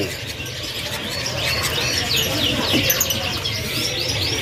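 Loper canaries at a bird seller's stall give repeated quick, bright chirps and trills over a steady background murmur, close and fairly loud.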